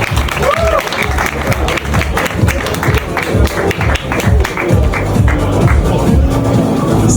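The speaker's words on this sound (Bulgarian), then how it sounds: "Аплодисменти!" Audience applause at the Miss Trans of Gloria 2026 pageant, a loud steady wash of clapping that fills the hall throughout, with music and voices mixed underneath.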